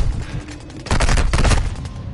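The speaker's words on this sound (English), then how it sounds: "He doesn't like my shotgun." A shotgun fires in a video game as a dense cluster of loud, sharp blasts lasting about a second, set against quieter background game noise with no talking.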